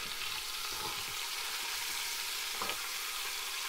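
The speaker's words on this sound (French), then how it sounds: "je vais faire dorer mes souris d'agneau" Lamb shanks browning in a Cookeo multicooker, a steady, moderately quiet sizzle of frying meat with a couple of faint stirring scrapes, no talk.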